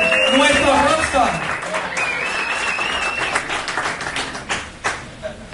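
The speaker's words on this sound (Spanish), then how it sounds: "Tenemos un fuerte aplauso a Gustavo, el de la secta, ahí con nuestro rockstar." An audience at a live app launch event breaks into sustained applause and cheering, with a voice talking over the clapping as it gradually thins out.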